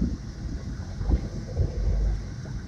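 A diesel RTC bus engine, cleaned with a carbon antidote injection, runs steadily in third gear without throttle, giving a continuous low rumble with a few heavier surges, heard from on board.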